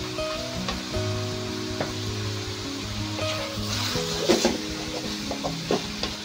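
Ginger sizzles and fries in a hot pan for a chicken curry, a steady close crackle with light stirring scrapes and no talk over it.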